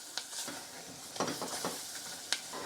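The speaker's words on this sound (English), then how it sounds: "Stir it around in the butter and then the onions until it creates a paste." A spoon scrapes and stirs flour, salt and pepper through melted butter and onions in a hot pan, giving soft irregular scraping strokes over a close, steady sizzle, with a few sharper clicks of utensil on pan.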